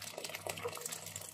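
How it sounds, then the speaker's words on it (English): Water poured into a pot of rice during fried rice cooking, a brief steady gush of liquid splashing in, close and moderately loud with no talk over it. "I feel like I'm going to add a little bit more of water."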